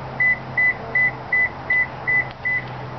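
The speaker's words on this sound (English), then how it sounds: "We're getting an intermittent beep," A Toyota or Lexus vehicle sounds a steady run of seven short, evenly spaced electronic beeps at close range, confirming that a wireless remote key is registered to the car, with no talk over them.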